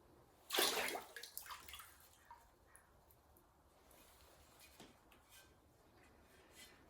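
A short splashing pour of liquid pottery glaze out of a wide shallow bowl on a spinning wheel comes up close, then trails off into quiet drips and faint trickles.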